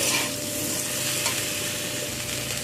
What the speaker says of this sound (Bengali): দিয়ে সব কিছুকে আরও একটু ভালো করে নাড়াচাড়া করে নেব